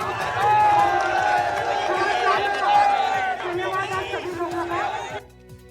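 Dense crowd of protesters from the Saini community gathered at the assembly in Jaipur, a loud continuous babble of many voices and shouting, fairly close, easing off near the end.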